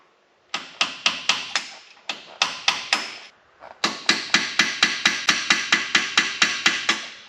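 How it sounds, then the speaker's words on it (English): Metal hammer blows ring out on the axle of a K20 truck in quick even bursts of four to five strikes, then a long unbroken run of sharp, close, bright clanks. "Well, I may as well have two greasy hammers."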